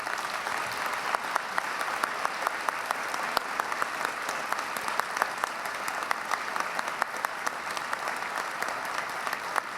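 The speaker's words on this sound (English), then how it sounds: "Let's give these amazing women one more round of applause." A gala crowd gives a sustained round of applause, a thick continuous clatter of many hands with occasional sharper close claps standing out, going on unbroken with no speech.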